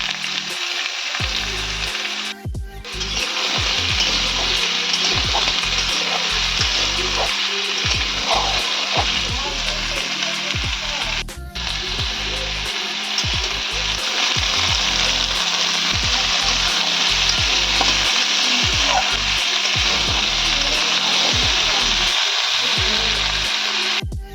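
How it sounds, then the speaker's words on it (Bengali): Potato pieces frying in a pan, a loud continuous sizzle and hiss close up, with brief stirring breaks and no voices. "প্রথমে আলুটাকে ভেজে নিচ্ছি"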